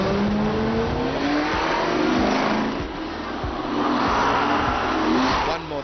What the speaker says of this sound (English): why don't we just fire them up? Because these cars might look great, but with all those V8s, V10s and V12s gathered in the same place